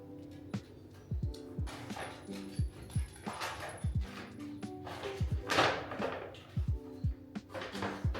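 A puppy in a home kitchen whimpers and yips in short, repeated bursts, close and fairly soft, amid light clattering and household movement.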